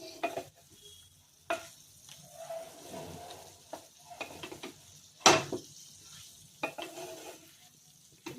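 Liver stir fry sizzling in a pan as vinegar is added, with soft stirring scrapes and a few sharp clinks of a spoon against the pan, moderately quiet and close.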